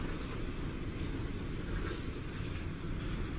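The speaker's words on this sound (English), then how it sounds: "never-ending wagon trains." Heavy freight train wagons loaded with copper rolling through the Atacama desert, a deep continuous rumble with a steady low drone and faint metallic rattle, close and unbroken.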